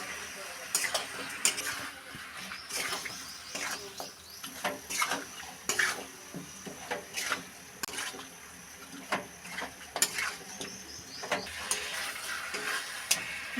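Chicken masala with chili, cumin and coriander powders, meat masala, salt and a little sugar is stirred and fried in a pan, repeated scraping strokes in an uneven rhythm over a low sizzle.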